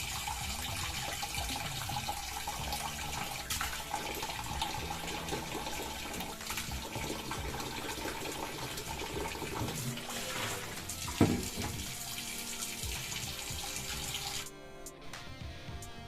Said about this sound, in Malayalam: നമുക്കിത് അഴുക്കില്ലാതെ നല്ല വെള്ളം തെളിഞ്ഞു വരുന്നിടം വരെ കഴുകിയെടുക്കാം.